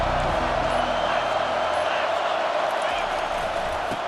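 Steady roar of a packed stadium crowd at a Penn State vs Michigan college football game, a continuous loud wash of cheering heard under a commentator's voice.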